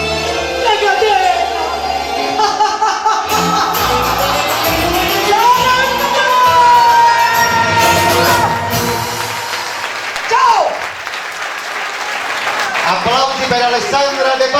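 Live audience applauding a singer at a Neapolitan song concert, sustained clapping with some cheers and shouts, loud and close, mixed with voices and trailing music.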